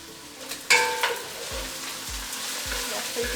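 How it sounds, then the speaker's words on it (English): Meat fries in a pan as a base for matoke, a steady loud sizzle with a sharp burst early on and a few stirring knocks, with no talk. "check my meat, whether it is frying the way I want it to"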